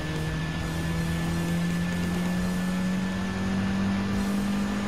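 A 1965 Mini Cooper S racing engine in Gran Turismo 7 drones loud and steady at high revs, a constant tone rising slowly in pitch as the car accelerates during a European Sunday race.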